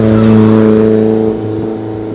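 A JDM sedan at a cars and coffee pullout event in Roxboro revs loudly up close, its engine drone holding steady and then easing slightly.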